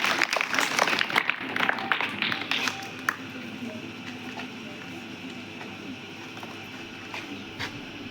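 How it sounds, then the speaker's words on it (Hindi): Students and teachers clap for a student at a Teacher's Day school celebration, a burst of applause in the first few seconds that thins out into scattered taps and room noise. "जरा जोरदार तालियां गजेंद्र के लिए।"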